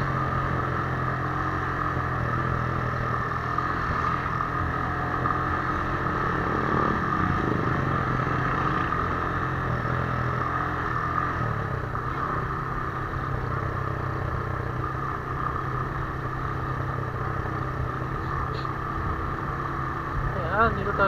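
A Suzuki Thunder 125 motorcycle engine drones steadily on a highway, a continuous close hum with wind noise, and a voice is faintly heard at times over it.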